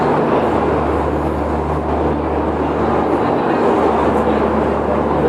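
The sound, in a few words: train engine and generator car noise at New Delhi station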